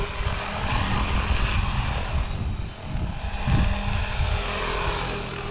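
A model helicopter buzzes and whines overhead with a steady rotor chop, its engine pitch swelling and easing as it manoeuvres nearby; no voices.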